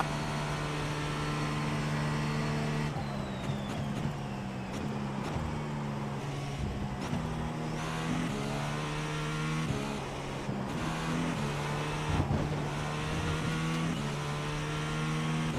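Porsche race car engine in the iRacing simulator, a steady droning exhaust note with repeated pitch sweeps as it revs through gears and lifts off, continuous at moderate volume for the whole stretch.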